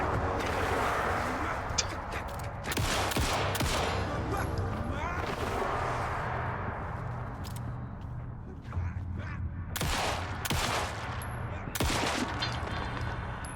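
Gunfire in the video game Alan Wake II, repeated sharp shots at an uneven rhythm over a dense rumbling game soundscape, with brief talk mixed in.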